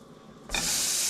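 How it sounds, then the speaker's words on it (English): A burger patty hits a hot pan and bursts into loud, steady sizzling that starts abruptly and holds on with a bright, hissing crackle. "You're gonna hear some sizzle right now."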